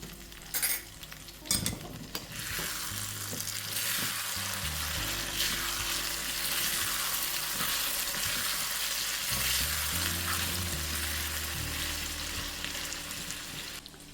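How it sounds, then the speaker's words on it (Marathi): Matki bhaji, a moth bean curry, sizzles softly in a pan on low heat, with a few spoon scrapes and clinks of stirring at the start, then a steady quiet simmering fizz. "आता आपण ही भाजी 7 ते 8 मिनिटं मंद आचेवर शिजवून घेऊया।"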